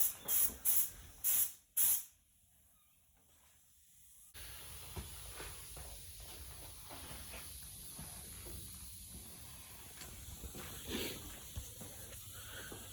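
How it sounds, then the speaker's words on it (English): Spraying primer dust coats onto a Harley-Davidson part, an airbrush gives a few short sharp bursts and then a soft, continuous hiss that holds faintly at close range. "give it a couple of dust coats, and then I'll lay a nice thick coat on"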